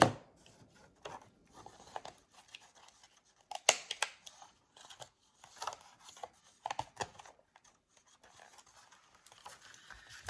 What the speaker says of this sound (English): get my corner rounder and do the corners